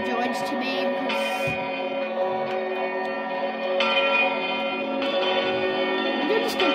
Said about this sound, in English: Oh, why are they ringing all the bells?